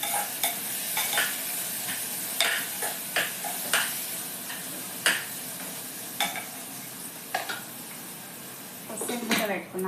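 Tomatoes fry for a mutton keema curry with a steady sizzle, while a utensil repeatedly scrapes and knocks against the pan in uneven stirring strokes.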